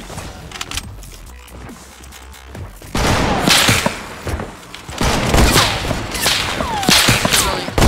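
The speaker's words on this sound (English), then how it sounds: "Oh, they're all shooting at me right now." Gunfire from several players in an online sniper shootout game, with heavy sniper rifles firing rapid, loud overlapping shots and bursts that swell into dense volleys after a quieter opening.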